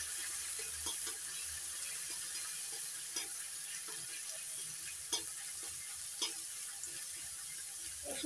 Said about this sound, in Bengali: রসুন বাটা একটু ভালো করে ভেজে নেবো।